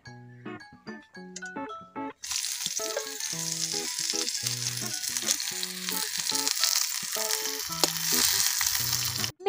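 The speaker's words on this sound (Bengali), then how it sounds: "এবার আমি এই কড়াইয়ের মধ্যে একটু পেঁয়াজ আর ধনেপাতা দিয়ে দিচ্ছি।" After a couple of seconds of plucked tune alone, onion and coriander leaves drop into mustard oil in a wok and burst into a loud, continuous sizzle that carries on over the melody.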